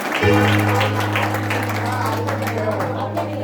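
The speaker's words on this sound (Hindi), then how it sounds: "तो एक बार लिखने वाले के लिए जोरदार ताली हो जाए।" During a bhajan gathering at a temple, an audience gives vigorous applause over a sustained instrumental drone, with the clapping continuous and fairly loud throughout.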